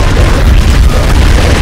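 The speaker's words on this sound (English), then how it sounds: "I use my one grenade" A grenade detonates in a video game, a loud, heavy boom whose low rumble fills the whole short stretch with no speech over it.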